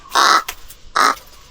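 Crow on a farm giving two loud, harsh caws about half a second apart, close by, with nothing else audible.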